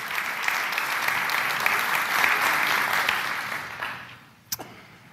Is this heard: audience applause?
yes